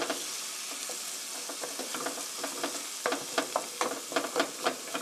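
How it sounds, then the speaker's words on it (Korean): Meat sauce gently stirred in a hot pan for a meat-sauce omelette, soft steady sizzling with a spoon scraping and clicking in uneven taps that grow more frequent toward the end. "살살 저어서 소스와 어우러지게 이렇게 넣고"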